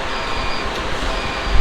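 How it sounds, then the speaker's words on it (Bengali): A driverless Kuala Lumpur monorail train arrives, giving a brief, steady rolling rumble with a faint high whine, close and fairly loud throughout. "ট্রেন চলে এসছে, চলুন এবার উঠে যাই।"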